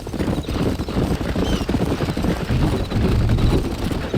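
Horse hooves clip-clop at a steady trot in the Red Dead Redemption western video game, near and continuous throughout, with the odd faint whinny and no talking.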